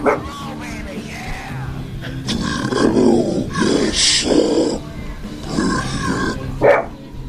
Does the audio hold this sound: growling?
yes